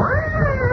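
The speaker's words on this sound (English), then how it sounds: "It's big black cat." In an old-time radio drama, a big black cat gives one short, loud, close caterwauling meow with a rising and falling pitch. The recording has a narrow, dated radio quality, and no one talks over the cry.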